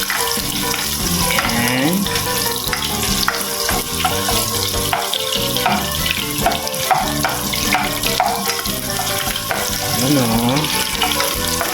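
Onions sauté in a pan for fish sinigang made with salmon head in miso, giving a continuous loud sizzle mixed with running water and kitchen clatter while people talk briefly.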